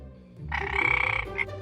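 A frog gives a loud, close, rapid rattling croak lasting under a second, followed by one short extra croak, against a quiet background.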